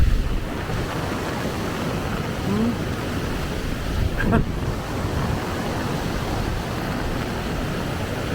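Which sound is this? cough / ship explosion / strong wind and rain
strong wind and rain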